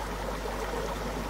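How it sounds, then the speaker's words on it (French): Small stream trickling through a Brittany forest, a soft, steady wash of running water, close and continuous with no breaks, no talking. "Ce sont des petits ruisseaux qui coulent partout en Bretagne."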